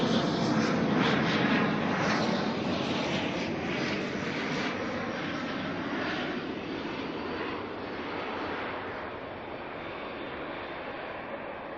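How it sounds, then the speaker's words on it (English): An ATR turboprop arriving from Palmerston North and landing at Auckland Airport gives a loud, rough propeller-engine drone that slowly eases and fades over the span, with no voices over it. "ATA here coming in from Palmerston North"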